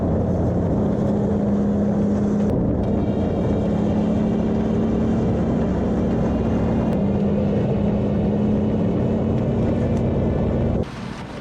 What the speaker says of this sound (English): The Morbark 6600 grinder exemplifies the balance between raw power and precision engineering.